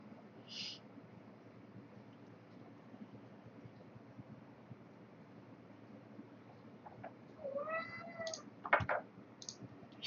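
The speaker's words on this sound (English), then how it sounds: "Shouty cat." A cat gives a short loud meow, then after a quiet stretch lets out a burst of repeated shouty meows with some clicking, close to the listener.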